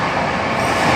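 Rajdhani Express passenger train running at high speed between New Delhi and Kolkata, a loud, steady rushing roar with continuous wheel and track rumble heard from inside the carriage.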